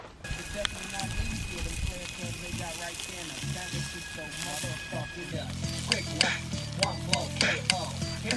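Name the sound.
pork chops sizzling on foil over a campfire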